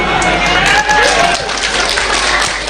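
An audience at an Islamic comedy sermon bursts into loud, dense applause, a steady wash of clapping that fills the whole stretch.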